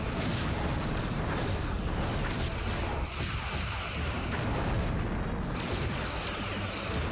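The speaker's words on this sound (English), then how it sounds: "They're going to come in now with their torpedoes, of course." Starship torpedo blasts erupt in a Star Trek starship battle game, a continuous loud wash of booming explosions and rumbling combat effects with no pause and no voices.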